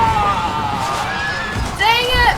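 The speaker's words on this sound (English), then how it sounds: "The horses! It's always the horses." Horses whinny in a TV battle scene, with high, shrill neighs rising and falling. A louder cluster of whinnies comes near the end over low rumbling background noise.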